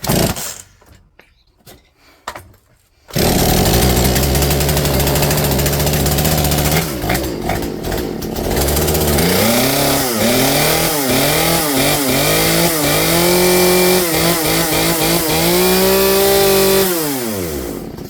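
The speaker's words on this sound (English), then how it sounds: "Does not idle, but its high is good." Poulan chainsaw fitted with a new Hipa carburetor, starting after a few quiet seconds and then running loud and close at high revs, its pitch surging up and down in repeated rises.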